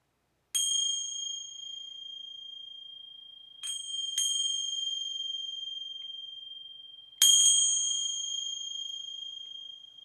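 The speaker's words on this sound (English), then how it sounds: "I'll ring the bells here and connect." Bright metallic bell strikes ring out, four in total in an uneven pattern, each tone sustaining and slowly fading in otherwise quiet surroundings.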